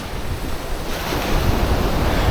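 Ocean waves washing up at high tide against a beach wall in Hua Hin, Thailand, heard as a steady, loud rolling surf with gusts of wind noise across the microphone and no voices.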